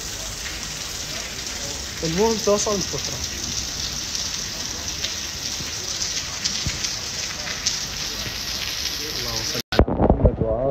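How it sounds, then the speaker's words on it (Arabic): Steady rain falls outdoors with a dense, constant hiss and patter throughout, while a person talks over it at moments. "مطر خير يا ربي."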